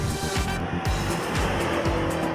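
BMW M8 accelerating hard to overtake, its engine note rising in quick repeated surges with rhythmic road and gear noise, loud and close throughout.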